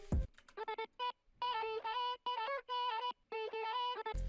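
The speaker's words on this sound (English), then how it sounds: "I just added some vocal chops as like a kind of lead." Chopped vocal samples serve as the lead of a hyperpop glitchcore track, clipped into short stuttering pitched bursts with abrupt gaps between phrases, crisp and close with no speech.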